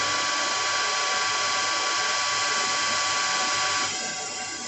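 A metal lathe cutting a bushing: a loud, continuous broadband whir and hiss of the machine holding steady, then easing slightly toward the end.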